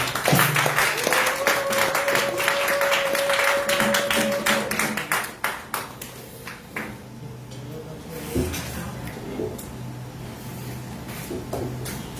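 A church congregation at an Easter service applauds, dense clapping for the first several seconds that thins into scattered claps, with musical tones underneath.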